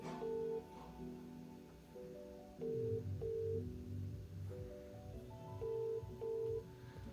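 An outgoing phone call rings in the earpiece, a quiet, repeating tonal ringback pattern with pauses between rings, low and slightly muffled against faint room noise.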